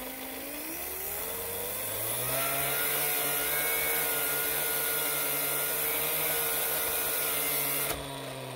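A Speedbolt RC car's electric motor spins up on a dyno, powered by a fresh 2S lipo: a loud, steady mechanical whine that climbs in pitch, holds high for several seconds, then cuts off abruptly near the end.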